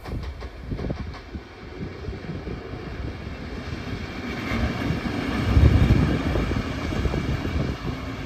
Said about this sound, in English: PKP Cargo's ST44-1233 heads north light engine, returning from Kruszwica.